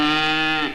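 A cow gives a single loud, sustained low moo from close by, heard alone and fading at the end, from a recording of stories and songs about America's pioneers.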